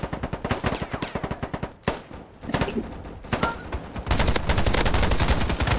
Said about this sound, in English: Oh, I just got a really long shot.